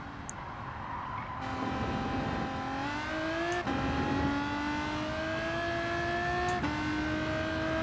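A Pagani Huayra in a racing video game revs hard through its gears, climbing pitch in rising sweeps with sharp breaks at each shift, loud and continuous.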